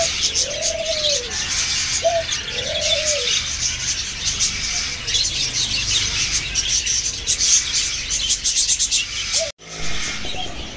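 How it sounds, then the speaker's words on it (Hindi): White dove cooing inside a cage, soft repeated coos near the start over steady chirping from other birds and insects, with a brief dropout near the end. "यह है नेक्स्ट केज, और इसके अंदर है वाइट डव।"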